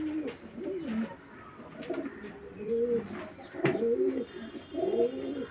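Pigeons of old Trichy bloodlines cooing nearby, a series of rounded, rising-and-falling coos from more than one bird, with a short sharp knock partway through.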